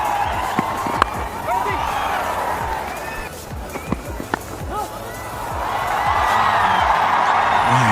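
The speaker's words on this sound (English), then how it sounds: "A little excitement around the crowd." A cricket stadium crowd at a one-day 50-over India vs Australia match lets out a broad, roaring cheer that swells and fades, loud and distant, with a commentator talking over it.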